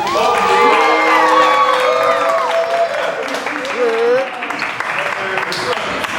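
A live krump event crowd cheers, whoops and applauds, loud voices and shouts rising over clapping near the start, then thinning out as noisy chatter continues.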